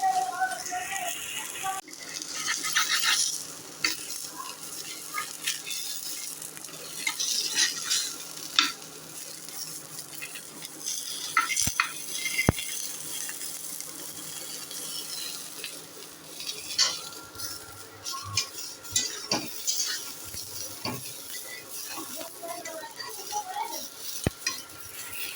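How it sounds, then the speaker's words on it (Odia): Onion and tomato frying in oil in a pot, a soft continuous sizzle with frequent scrapes and clinks of a spoon stirring against metal, close by, with a voice talking at times. "ପିଆଜ ଟମାଟୋ ବି ଭାଜି ଦେଇଛି ତେଲରେ।"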